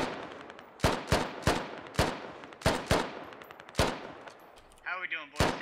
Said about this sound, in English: You can also see some mortar rounds landing